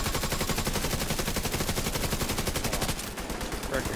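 Rapid automatic gunfire in the video game The Division 2, a steady, fast, evenly spaced stream of loud close shots that briefly thins near the end.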